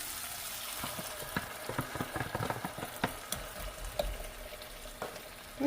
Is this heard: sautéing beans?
yes